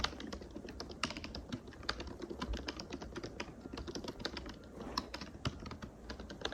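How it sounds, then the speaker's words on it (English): Fast, steady typing on a computer keyboard during a writing sprint, with dense clacking keystrokes running throughout at close range and no speech. "I felt like we were typing furiously during that one"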